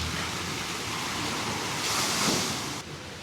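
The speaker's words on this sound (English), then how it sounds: "the big cup up the end there fills up with water and" Water from a big tipping cup in a Bali garden water feature splashes down in a steady, rushing wash that swells briefly, then cuts off.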